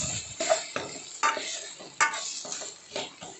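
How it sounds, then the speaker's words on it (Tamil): Tomatoes sautéing in a pan for egg gravy, stirred with irregular scraping and clinking strokes of a spoon against the pan over a soft sizzle, close and fairly quiet, no talk. "தக்காளியெல்லாம் நல்லா கொஞ்சமாக சுற்றி விட்டுட்டே இருக்கலாம்"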